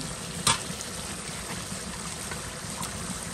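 Meat frying in oil with green chillies, a steady dense sizzle throughout with one brief clatter near the start, close by and without talk.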